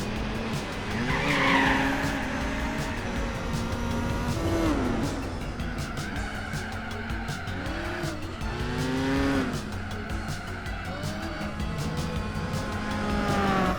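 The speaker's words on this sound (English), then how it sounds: "this thing spins the wheels so easy with the dirt tires" A Nissan Skyline on dirt tires in Gran Turismo 4 spins its wheels, giving a loud, continuous engine roar with rising and falling revs and squealing tire skids throughout.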